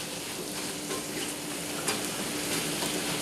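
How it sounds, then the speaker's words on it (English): Three sliced apples sauteing in butter and organic oil in a pan, a steady soft sizzle and frying hiss throughout, with a faint utensil click near the middle and no talk. "Are you sauteing apples?"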